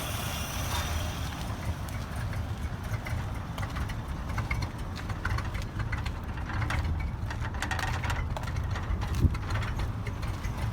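A 1967 Chevrolet C20 truck engine, due for a tune-up, idles a little low with a steady, continuous rumble and faint irregular ticking throughout.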